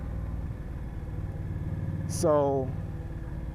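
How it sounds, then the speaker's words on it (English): A 2018 Indian Scout Bobber on its stock exhaust idles with a low, steady throb, then gives one short rev that rises sharply before settling back; a voice speaks briefly over it. "the stock exhaust note sounds so good"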